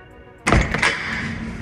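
A car door, on a Mercedes bought at a Manheim auction, opens with a single sudden mechanical thunk and clatter, close and fairly loud, followed by a steady hum, with no talk.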